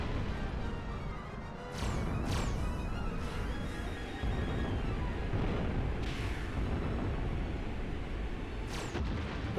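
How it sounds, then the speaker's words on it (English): Deep booming video game explosions on a PS1 thud repeatedly over a dense rumbling background, with a few sharper crashing blasts spread across the clip. "Good thing all these giant thuddy explosions are covering."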